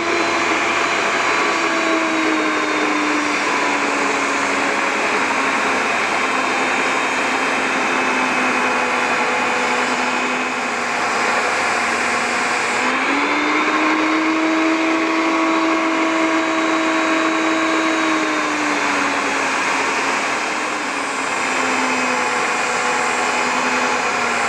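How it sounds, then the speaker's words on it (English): A belt sander grinding wood while clamped in a vise, a steady loud whining drone with a slight pitch dip partway through, running continuously without talk. "I'm just going to grind away the material with my belt sander that I've secured firmly in my vise"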